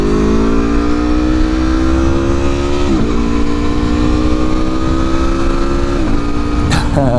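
An Aprilia motorcycle pulls away and accelerates hard, heard from the rider's seat. The engine note climbs steadily through two gear changes, and loud wind buffets the helmet throughout.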